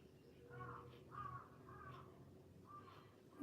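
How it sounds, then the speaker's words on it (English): A crow caws four times in a steady, spaced rhythm, moderately quiet and somewhat distant, over a soft background hum. "It's a crow."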